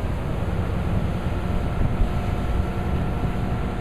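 Mercury outboard boat engine running steadily at 3,500 RPM, a continuous broadband roar mixed with wind rush, constant in level with no speech.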